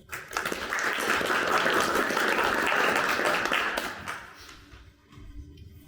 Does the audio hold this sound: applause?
yes